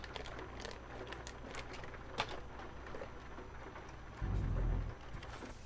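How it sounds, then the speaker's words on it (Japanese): Steady sunshower rain in Euro Truck Simulator 2 hisses as a continuous, even wash of drops, with a brief louder low rumble near the end. "天気雨っていった状況ではあります。"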